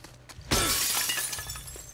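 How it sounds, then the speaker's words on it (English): Glass windows shatter in the video game The Last of Us Part II, a sudden loud crash after a quiet moment, followed by a tinkling spray of falling shards that fades gradually. "Like look at breaking glass windows."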